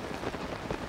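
Rain falling in The Legend of Zelda: Tears of the Kingdom, a steady soft hiss of rainfall heard from inside a cave, even and continuous with no other sounds.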